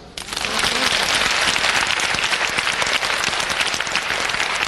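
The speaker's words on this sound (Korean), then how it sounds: "성경의 위대함에 박수." A church congregation at a Korean revival meeting bursts into applause, rising quickly into a loud, sustained roar of many hands that holds evenly to the end.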